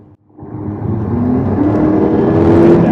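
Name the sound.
car engine revving with exhaust baffles open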